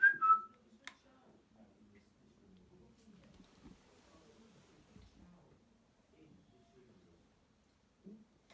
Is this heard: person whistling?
yes